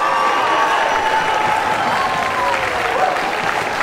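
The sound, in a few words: crowd cheering and applauding at a karate fight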